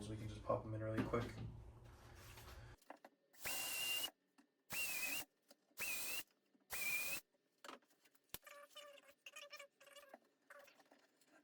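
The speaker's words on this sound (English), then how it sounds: "I'm just gonna use the actual part itself as my drill guide. But they're teeny tiny holes." Several short, loud bursts of a power drill boring teeny holes through a drawer part used as its own guide during a floating nightstand build, each a second or so long, separated by pauses and followed by small handling clatter.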